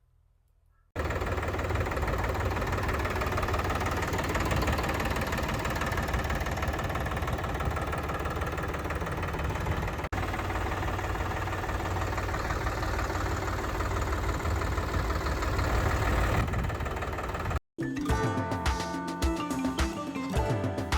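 A 2023 Mahindra Yuvo Tech Plus 405 DI tractor engine idles steadily with a low, rumbling diesel knock, close and loud, cutting off briefly near the end before resuming.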